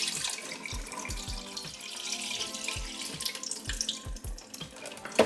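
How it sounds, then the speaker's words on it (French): Rice being rinsed under a running kitchen tap, a steady splashing stream of water into a sink with soft clinks and grain-shuffling bursts throughout, close and fairly loud with no talk. "Donc là, je lave mon riz."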